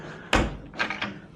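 A hotel room fridge door at the Palazzo, 39th floor, swings open with a sharp thud, then rattles through a couple of lighter knocks as it settles and closes.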